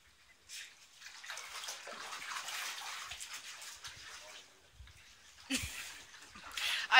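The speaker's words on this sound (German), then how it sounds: "kannst du mal das Wasser ablassen?" Water sloshing and running in a bathtub, a steady wash of splashing that swells near the end, with brief voices and small thumps breaking through.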